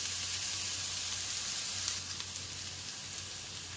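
Onions fry in a pan for chicken biryani, giving a steady, even hiss of sizzling oil that carries on without pause at moderate loudness, with a faint low hum underneath.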